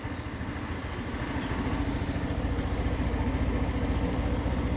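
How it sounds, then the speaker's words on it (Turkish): A motorcycle engine runs steadily at idle after starting, a loud, even rumble that holds close and constant with no talk over it. "Motorumuzu da çalıştıralım."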